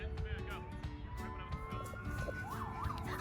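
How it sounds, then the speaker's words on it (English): An ambulance siren wails steadily with a rising and falling tone, somewhat distant and faint, under people talking and background noise. "Ambulance. Ambulance."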